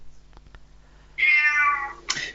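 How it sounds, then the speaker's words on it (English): A cat lets out a loud, drawn-out meow close by, followed by a shorter second meow after a few faint taps. "The cat wants in, David."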